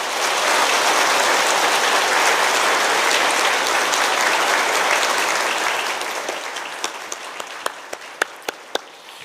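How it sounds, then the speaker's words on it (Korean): A church congregation gives loud, warm applause in celebration during a Sunday service, a thick roar of clapping that gradually thins out, leaving a few scattered, distinct claps near the end. "우리 뜨거운 박수로 축하해 주시기 바랍니다."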